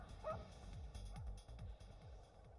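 A dog in The Sims 2 barks in quick, yappy bursts, a rapid run of short, fairly quiet barks.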